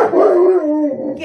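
An Alaskan Malamute barks and yowls at a man peering in through a window, one long drawn-out howling bark up close and loud, easing off toward the end.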